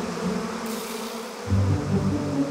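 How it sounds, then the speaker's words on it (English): Honeybees buzz in a children's cartoon, a steady droning hum that swells louder midway through and continues without speech. "aren't those honeybees?"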